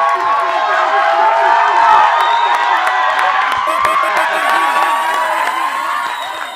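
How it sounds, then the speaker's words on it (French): A lively French television show audience cheers and claps, with whoops and children's shouts over a dense, loud crowd roar that holds steady throughout. "J'aimerais qu'on applaudisse encore bien fort"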